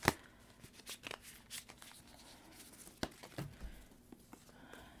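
Tarot cards being shuffled for a zodiac reading, a soft close papery riffling with scattered flicks and taps, one sharper snap at the start and another mid-way, all fairly quiet with no talk.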